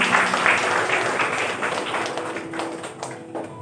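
Wedding guests in a church applaud the unveiling of the bride's veil during a marriage blessing, a moderate burst of clapping that tapers toward the end.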